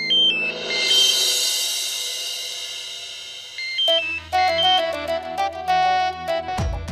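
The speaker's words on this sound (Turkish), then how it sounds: "Bu telefon yine çalıyor." Electronic ringtone melody plays loudly, a sustained chiming tone first, then a repeating rhythmic tune of bright beeps; no voices.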